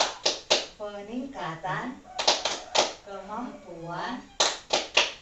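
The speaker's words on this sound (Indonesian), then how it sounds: "kita buat dulu ya ibu-ibu tepuk FDS sebelum memulai pelajaran" Group of women doing the rhythmic tepuk FDS clapping chant, sharp bursts of hand claps alternating with spoken chant lines in a steady repeating pattern, close and loud.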